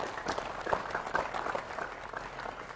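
An audience applauds at a religious and family talk by Cak Nun, with a steady patter of moderate clapping that stays at a fairly even level throughout.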